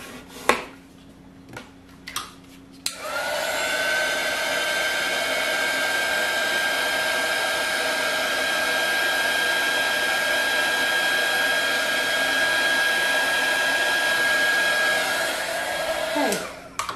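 A hair dryer used to dry a paintbrush while painting a barn quilt switches on after a few taps and runs as a loud, steady whine for about fourteen seconds, then winds down with a falling pitch.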